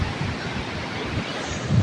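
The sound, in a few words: big ocean waves crashing at the sea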